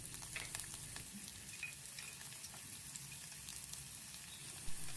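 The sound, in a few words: green chillies and onions sautéing in oil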